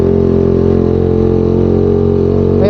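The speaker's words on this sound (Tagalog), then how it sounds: "Hirap yung motor natin." A motorcycle engine labors uphill on a road hit by a typhoon landslide, a loud, close, steady droning hum with a strained, low throb and a slight rise in pitch at the end, no speech.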